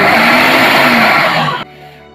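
Ninja 3-in-1 food processor on its puree setting blends plantain and yam with a loud, steady whirring motor roar that runs for about a second and a half, then cuts off sharply, leaving a faint fading hum.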